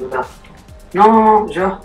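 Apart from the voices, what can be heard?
dog barking in video game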